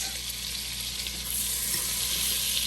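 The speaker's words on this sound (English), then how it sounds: "Now we're going to add our butter, let our butter melt." Butter melts and sizzles in a pan that was used earlier for cooking, giving a steady, even hiss that grows slightly louder partway through and stays close with no talking.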